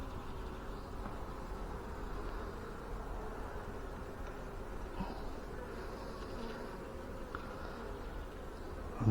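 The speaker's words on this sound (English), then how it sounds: "there's the first bee bouncing my veil" Honeybees buzzing around an open hive during an inspection, a steady low drone of many bees with some closer passes, fairly quiet.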